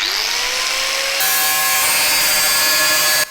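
A power tool cuts and trims metal to fit a PDI intercooler during a BMW diesel swap into a Land Cruiser, giving a steady high grinding whine whose pitch shifts partway and ends abruptly.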